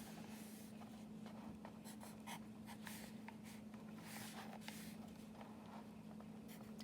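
A pencil scratches across a book page in short, quiet, irregular strokes over a faint steady hum, close by and very soft, with no talking.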